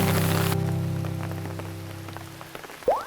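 Sudden heavy rain patters outdoors at a historic site in Gimhae, a dense steady wash of drops that slowly fades, with a brief rising tone near the end.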